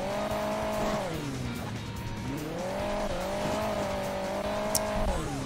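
A car engine drones and revs in Hill Climb Racing 2, its pitch rising and dipping as the vehicle struggles to move, loud and continuous with no talk.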